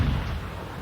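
A tank cannon fires in World of Tanks gameplay, a single heavy low boom that rolls off quickly.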